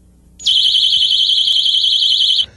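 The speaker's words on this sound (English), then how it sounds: "Whistles and personal alarms can be useful if they're always readily available." A personal safety alarm shrieks at close range, a loud, steady high-pitched electronic tone with a slight warble that runs for about two seconds and then cuts off abruptly.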